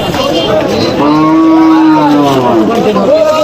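A cow lets out a long, loud, drawn-out moo at a Qurbani livestock market, with a busy crowd murmuring in the background.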